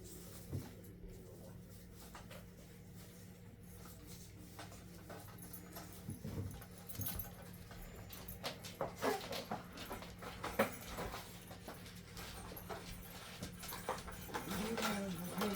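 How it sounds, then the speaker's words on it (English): Dogs playing and jumping around indoors, with scattered thumps, scuffles, panting and an occasional whimper, growing busier and louder toward the end. "my dogs are wanting to play and they're jumping around"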